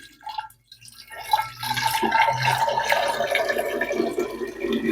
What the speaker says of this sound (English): I'm actually washing the spoon.